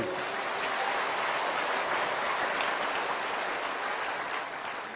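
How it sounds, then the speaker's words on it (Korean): Korean church congregation clapping in thanks to God during a Sunday sermon, a dense, even roar of many hands sustained and steady, easing slightly at the end. "하나님 아버지께 한번 감사하다고 박수 한번 해요."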